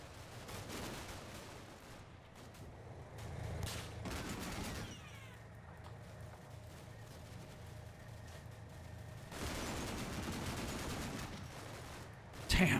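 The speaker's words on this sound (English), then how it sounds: "those are some heavy AKs" Heavy AK rifle fire in the Cold War combat game Combat Mission during a Marine amphibious landing, sustained bursts of distant gunfire in two dense stretches with a quieter rumbling gap between.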